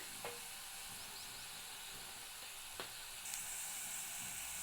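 Sliced bitter gourd frying in oil on a low flame, a soft continuous sizzle with faint crackles and a couple of light utensil scrapes as it is stirred, no talk over it.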